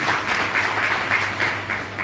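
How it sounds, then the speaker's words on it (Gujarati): An audience at a devotional bhajan gathering for Ashadhi Bij claps in short, evenly spaced bursts, moderately loud and close, with no talk over it. "તાળીઓના ગરગાટ સાથે વધારો થાય"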